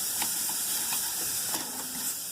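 Rib steaks sizzling on a grill make a steady, close hiss with a few faint pops and crackles, heard alone without talk.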